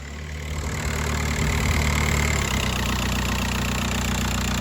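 A Volkswagen Jetta TDI diesel engine with an oil leak near the high pressure fuel pump idles close by, giving a steady, even rumble with a low, constant hum throughout.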